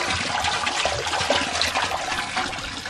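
Water rushing down through a sump pump discharge pipe as the check valve is lifted, a steady, loud broadband gush that holds strongly through the whole stretch without pause.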